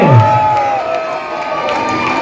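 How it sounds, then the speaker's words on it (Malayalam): A large crowd at a temple elephant festival competition in Vypin, Kerala cheers and shouts loudly in one continuous roar, close and sustained throughout. "ആർപ്പുവിളികളും കയ്യടികളുമായി"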